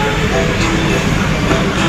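The Brantas passenger train from Pasar Senen to Blitar pulls into Cirebon Prujakan station with a loud, steady rumbling roar of wheels and carriages, dense and continuous over a short stretch.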